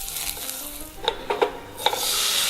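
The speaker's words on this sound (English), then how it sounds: "again, we're buttering the pan" Butter sizzles in a hot crepe pan, giving a steady hiss broken by a few light metallic clinks of utensils against the pan. The sizzle swells toward the end.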